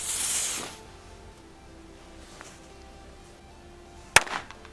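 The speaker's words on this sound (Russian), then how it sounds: "Лично для меня первый корсар довольно-таки тихий." A Korsar-1 firecracker first gives a brief hissing burst, then a quiet pause, then one sharp bang with a short rattle toward the end, fairly modest in loudness.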